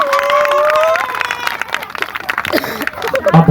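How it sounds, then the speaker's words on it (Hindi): Guests clap and cheer at a wedding jaimala garland ceremony in a steady burst of applause and crowd noise, with voices talking over it. "ताली बजा दो।"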